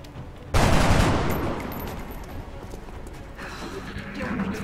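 A sudden loud burst of gunfire erupts in the turn-based strategy game XCOM: Enemy Within, with a rattling crackle that decays over a few seconds before fainter game sounds follow.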